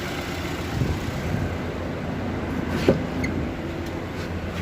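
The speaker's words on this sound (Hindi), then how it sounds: "गाड़ी स्टार्ट हो गई है।" A 2012 Hyundai Sonata engine idles steadily just after starting, following a faulty-fuse repair. It is a low, even running hum with one brief click partway through.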